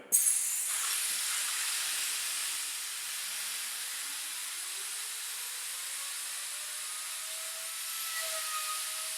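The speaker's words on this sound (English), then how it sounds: "the compressor wheel should start to move some air" Steady airy hiss of a turbocharger compressor wheel spinning up and blowing air through its housing, with a faint rising whine underneath; continuous and fairly quiet, no talking.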